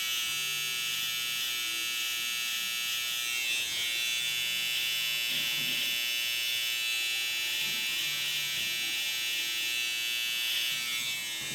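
Electric hair clippers run in a steady, continuous high buzz while a beard line and fade are cut, the hum holding close and even throughout with no talking.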